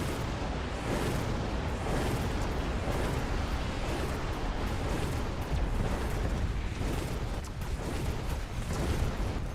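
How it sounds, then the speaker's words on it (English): Orbital bombardment strikes in a competitive strategy video game tournament match, a dense, continuous rumble of overlapping explosions and booms filling the whole stretch at steady loudness. "Orbital bombardment's done pretty good work for us."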